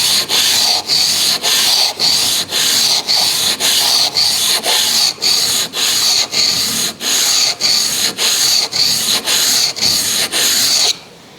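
A chisel being sharpened on MPower sharpening stones, a loud, close, rhythmic scraping of steel rubbed back and forth across the stone, about twenty even strokes in steady succession before stopping.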